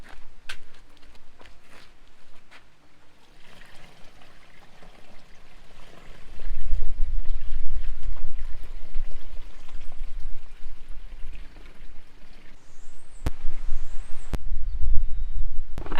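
Water pours into a mini washing machine tub in a continuous rushing stream, starting faint and swelling louder at about six seconds, with a few sharp knocks near the end.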